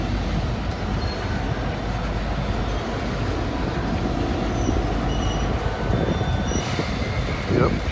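A long freight train with distributed power units rumbles steadily through the tunnel at Gallitzin, Pennsylvania, a dense continuous roar with faint wheel squeals and metallic clanks over it, heard alone at moderate distance.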